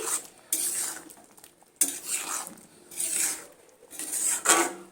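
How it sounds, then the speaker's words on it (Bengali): Spatula stirring poppy seed paste mixture for an egg posto dish in a pan, with bursts of scraping and clinking against the metal repeating in uneven strokes, close and moderately loud, no talking. "এবার আমি আবারও খুন্তিটা দিয়ে এইভাবে সমস্ত কিছু এইভাবে নেড়ে চেড়ে দিচ্ছি"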